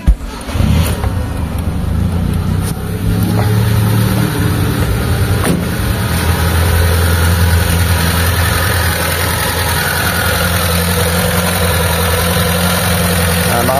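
A Mitsubishi Lancer Pizza with a 4G13 carburetor engine idles too high after several carb replacements. The engine gives a steady, close, unbroken hum that stays even for the whole stretch, with no talking over it.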